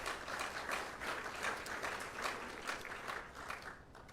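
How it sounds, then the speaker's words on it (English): A town hall audience applauds steadily at moderate volume, a dense wash of many hands clapping without pause, with no voices standing out. "if we can give all of these folks a round of applause"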